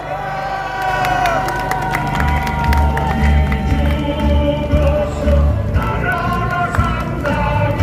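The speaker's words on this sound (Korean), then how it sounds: "박수 한번 주세요." A crowd at a rally outside Seoul Station cheers and applauds as a new speaker is welcomed, a loud, dense wash of clapping and shouts with a steady low rumble under it throughout.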